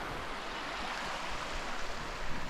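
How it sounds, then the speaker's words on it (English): Running water rushes steadily and evenly, a constant broad wash of flowing creek sound with no voices. "So that's the part of the creek that's running down"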